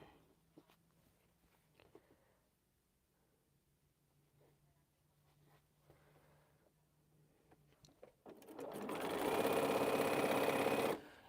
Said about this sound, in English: Yeah, now it's sewing right